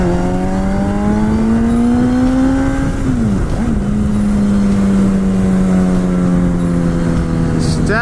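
Honda Repsol 1000cc motorcycle engine accelerating, a loud close whine that climbs steadily, dips briefly at a gear change, then pulls up again. Continuous and strong throughout.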